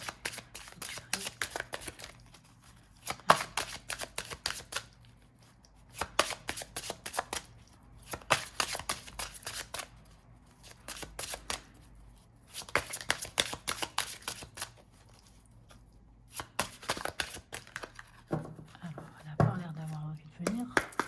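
A tarot deck is shuffled in repeated quick bursts separated by short quiet gaps, close and fairly soft, with a voice briefly heard near the end.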